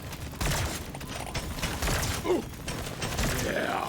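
Coil gun firing in Deep Rock Galactic: Survivor, a busy clatter of quick mechanical shots and whirring bursts repeating at a fast rhythm, moderately loud with no talking.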